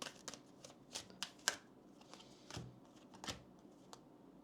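Oracle and tarot cards being shuffled by hand, giving soft papery riffles and taps in an irregular rhythm. The sound is close and quiet with no talking.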